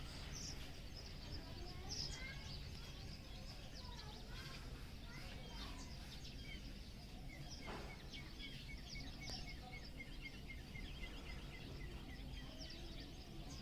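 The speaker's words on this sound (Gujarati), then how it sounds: "પક્ષીઓનો અવાજ મેં કીધું માણી લે બે પાંચ મિનિટ" Birds chirp and twitter in scattered short calls throughout, with a steady hum of outdoor background noise and distant voices.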